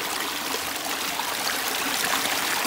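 Water from a natural spring in Montana running in a continuous bright trickle and splash, close and steady, with no talking.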